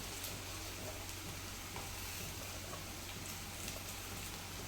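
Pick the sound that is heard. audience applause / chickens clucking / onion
onion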